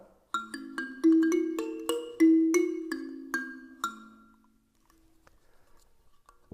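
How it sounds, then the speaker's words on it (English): Thumb piano (mbira) from a school world percussion class pack, plucked in a quick run of about a dozen bright metallic notes that step up and down, then ring out and fade into near silence. "a thumb piano or mbara,"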